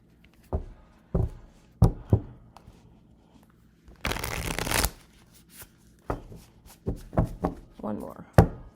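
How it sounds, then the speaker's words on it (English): A large tarot card deck is shuffled in several sharp riffles and taps, with one long, loud burst of card flutter midway, close up with quiet gaps between. "I'm gonna just shuffle a couple more times because this deck is huge."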